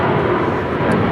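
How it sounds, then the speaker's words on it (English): A United Airlines Boeing 777-200 takes off from Los Angeles airport, giving a loud, continuous jet engine roar through the whole short moment, with some voice mixed in. "This is United Airlines 1069 taking off to Chicago on the 777-200"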